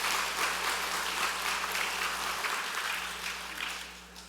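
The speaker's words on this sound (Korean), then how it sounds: "우리 하나님께 다시 한번 영광의 박수를 올려드리도록 하겠습니다" A congregation applauds together during an evening church worship service, the clapping dense, steady and fairly loud from start to finish, easing slightly toward the end.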